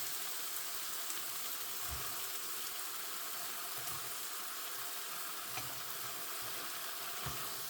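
Noodles with vegetables and shrimp stir-frying in a pan, with a continuous sizzle and occasional soft knocks of the utensil against the pan as the food is tossed.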